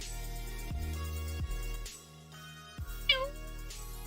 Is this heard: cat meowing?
yes